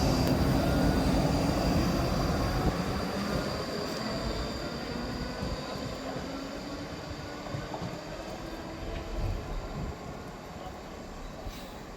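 A ScotRail passenger train pulls away from Edinburgh, a loud low rumble and hum near at first that gradually fades as it departs, with a faint steady whine above.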